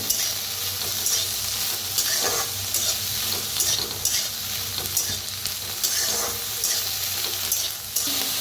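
Mixed vegetables roasting in a pan over a village wood-fired stove, a continuous close sizzle with repeated scraping and stirring strokes, steady and moderately loud without any speech.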